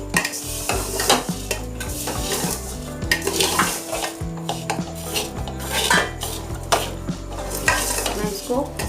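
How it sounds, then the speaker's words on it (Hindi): Spoon stirring sheer khurma, vermicelli simmering in milk with fried nuts, gives a steady run of scrapes and clinks against the pot over a constant bubbling backdrop, close and fairly loud with no talk. "मैं इसको हल्का सा चम्मच चलाऊंगी सब चीज़ें इसमें शामिल करके"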